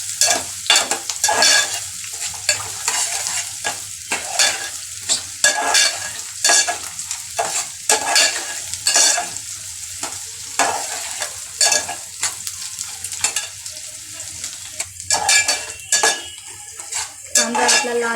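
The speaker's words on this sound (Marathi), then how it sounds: "त्यामध्ये आपण आता बारीक चिरलेला कांदा टाकून घेऊया। कांदा पण चांगला लाल करून घ्यायचा आहे।" Finely chopped onion fries in a pan for a dal tadka, with steady sizzling under repeated scraping and clinking strokes as a utensil stirs it, loud and close throughout.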